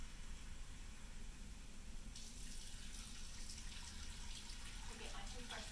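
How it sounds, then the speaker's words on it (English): Water runs steadily from a tap into a sink while a denture cup is rinsed, a constant close hiss that brightens after a couple of seconds as the flow changes. "I'm going to rinse my denture cup."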